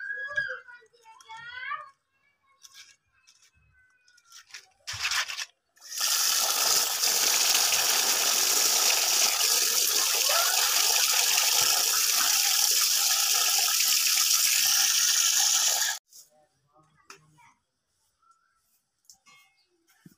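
Tap water gushes loudly and steadily for about ten seconds while lata fish is washed in a sink, bracketed by quieter clatter and brief talk before and after.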